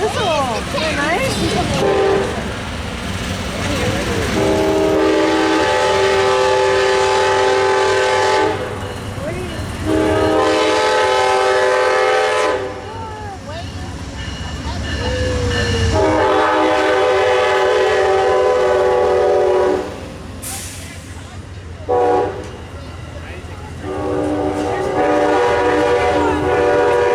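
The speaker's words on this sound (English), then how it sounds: "Wow, he's blowing that whistle." Amtrak P080 Carolinian passenger train passes a gated crossing on Train Day 2015, sounding loud repeated horn blasts over the roar of rolling cars, with brief gaps between blasts.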